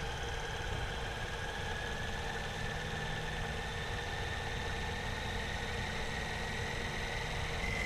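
A Magellan TruPRP centrifuge on auto spin ramps up toward 2,800 RPM, giving a steady mechanical whir and hum with faint tonal whine, even and fairly quiet throughout.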